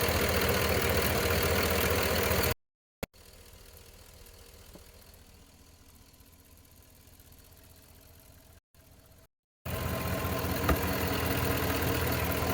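Cadillac Escalade hybrid with a Vortec 6.0 V8 idling with a light ticking that may come from the injectors, a steady close engine drone broken by short dropouts and a quieter muffled middle stretch.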